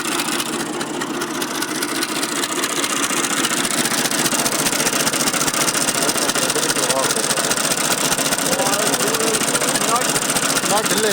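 A 1984 Massey Ferguson 240 tractor idles close by, its diesel engine running in a steady, loud, continuous chug for the whole stretch, with a voice talking over it.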